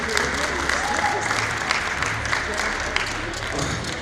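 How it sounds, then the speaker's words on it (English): Sustained applause from a crowd at a school games fencing event, steady and dense across the whole stretch, with a low hum and a voice faintly mixed in beneath. "Big round of applause again for our guitar players and our birthday people."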